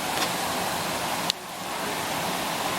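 A small waterfall in the Black Forest, Germany, gives off a steady, even rush of falling water with no people talking, broken only by one brief click partway through.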